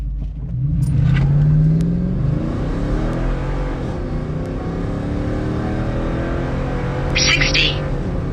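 A Ford F150 pickup with a Coyote V8 and a cold air intake launches hard in a drag test, the engine droning loud and steady with rising, revving pitch, tire noise in the mix and a brief higher burst near the end.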